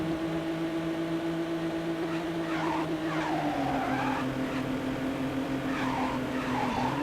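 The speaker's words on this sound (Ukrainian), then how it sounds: "Мотоцикл." A motorcycle rides in the Midnight Club 2 video game with a steady engine drone and tire skidding squeals, closely recorded and with no talk.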